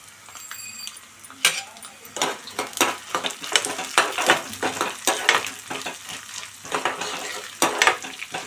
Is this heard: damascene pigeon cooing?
no